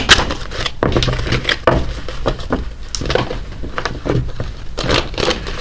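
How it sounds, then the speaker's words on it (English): Oracle cards are shuffled by hand close up, giving a run of papery riffles, slaps and crisp flicks in uneven bursts, with no talking. "I'm not having a good time shuffling these today."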